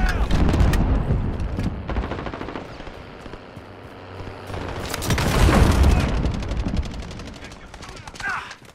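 Bursts of semi-automatic gunfire in Call of Duty Modern Warfare, loud repeated shots with heavier booms mid-way, mixed with game noise and players talking over voice chat.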